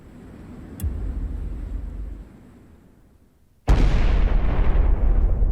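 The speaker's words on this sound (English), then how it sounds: "A massive explosion tears through the air." A massive explosion at the Fukushima nuclear plant's Reactor Unit 1 building, a loud sudden blast that follows a lower rumbling buildup and a brief sharp crack, then roars on with a broad sustained boom.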